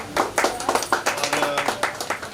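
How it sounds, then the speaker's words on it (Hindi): Scattered hand claps from a small open mic audience for a performing team, a quick uneven patter of distinct claps close by, with some voices mixed in. "तो एक बार जोरदार तालियों के साथ जो है काविश की पूरी टीम के लिए तालियां बजाइए"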